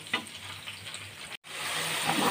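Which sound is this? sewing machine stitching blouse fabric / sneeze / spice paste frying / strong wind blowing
spice paste frying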